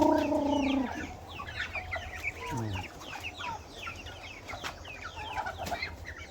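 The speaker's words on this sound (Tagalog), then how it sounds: "Dami ng pato." Ducks about 45 days old on a farm, being fed rice bran, call out in a busy flock with repeated honking calls and overlapping chatter, fairly close, with steady background noise throughout.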